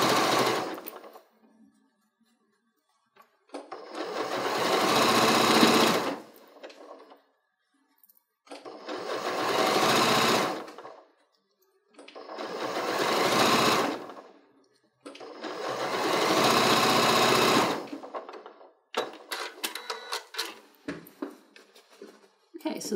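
A sewing machine sews down a folded fabric edge in four long, loud whirring runs separated by near silence, followed by quicker short stitching bursts at the end.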